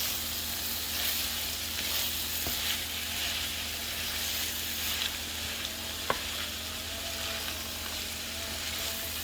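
A vegetable medley cooks down in a pan, giving a steady, even sizzle and fry with a faint stir or clink now and then. No voices are heard.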